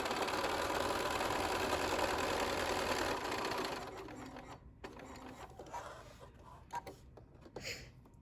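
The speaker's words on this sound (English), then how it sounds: "I'm doing a 1/4 inch seam from the top fabric that I can see because it's closer in than this bottom fabric" A sewing machine runs a quarter-inch seam through the layered fabric of a zipper pouch, humming steadily and close for about four seconds, then stops, leaving faint clicks and handling noises.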